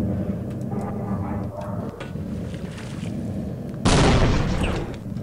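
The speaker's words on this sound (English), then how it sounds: "Let's see if we can flick a grenade in there." Muffled underwater grenade blast in Half-Life: Opposing Force, a sudden loud broadband boom near the end that follows a murky, bubbling underwater ambience.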